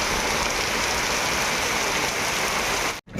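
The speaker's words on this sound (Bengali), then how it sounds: "দেখো কত জোরে বৃষ্টি হচ্ছে" Heavy monsoon rain pours down in a dense, loud, continuous roar with no talking, then cuts off abruptly near the end.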